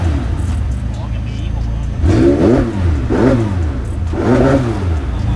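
A McLaren 720S engine revs in repeated swells, three strong rising bursts over a steady idle rumble, heard from inside the cabin with people talking over it.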